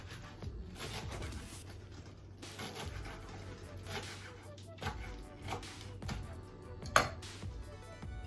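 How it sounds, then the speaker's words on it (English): A knife chops fresh cilantro in a home kitchen with quick, light cuts in an irregular rhythm, fairly quiet and close, with soft background noise. "here's my cilantro. I'm gonna use about a handful bunch, and you're gonna cut it like this"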